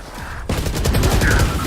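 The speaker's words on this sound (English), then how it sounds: "Can you shoot the gun?" Rapid bursts of shooter-game gunfire begin abruptly after a quiet start and continue as a dense, loud clatter of repeated shots to the end, with no talking over it.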